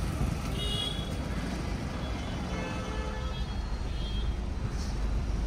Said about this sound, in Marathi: रस्ता छोटा असल्यामुळे थोडस ट्रॅफिक.